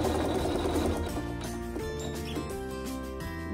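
A sewing machine runs a tack-down stitch with neutral thread on a quilt block, its rapid, steady mechanical whir close and fairly quiet, alone without voices.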